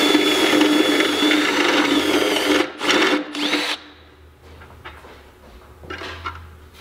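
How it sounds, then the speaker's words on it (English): A power drill bores into metal on an engine part, loud and steady with a whining, grinding tone, then stops and restarts in short bursts before fading to quieter shop noise. "And then the drill bit catches it and just slings the dust everywhere."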